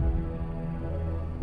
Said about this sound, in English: It's the heartbeat of the Virage embryo, the god of destruction.